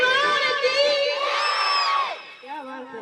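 Loud, sustained group chanting at a Hindu devotional jagran gathering, many voices rising together in a drawn-out cry before tailing off into a quieter follow-up shout.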